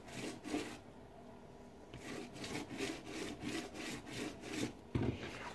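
A wooden potter's template is chamfered by hand at about 45 degrees, with repeated rasping, rubbing strokes of roughly half a second each in an uneven rhythm, close and fairly quiet, without talk.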